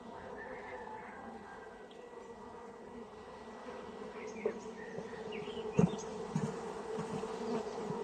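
Honey bees buzz steadily at a hive, a dense continuous drone with a few louder passes of individual bees flying close by, and no one speaking.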